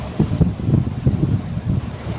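Surf breaking on Azhikkal beach in Kerala, a steady low rumble of waves washing in with wind buffeting the microphone, no voices.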